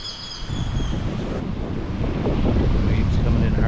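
Strong wind buffets the microphone at a Cozumel beach resort on a windy morning, a low rumbling roar mixed with crashing surf, loud and continuous.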